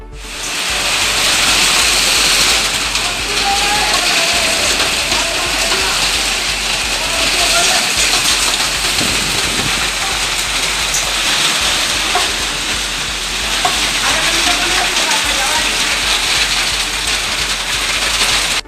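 Heavy rain pours for over an hour in Nallampalli, Dharmapuri district, a dense, loud steady hiss of downpour throughout with a voice talking over it.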